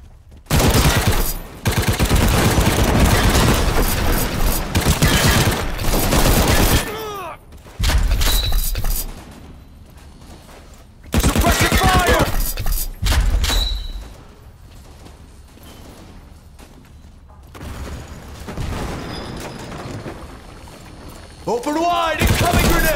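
Bursts of rapid gunfire in the World War Heroes video game rattle loudly in long volleys, separated by quieter gaps with fainter shots and whooshing effects.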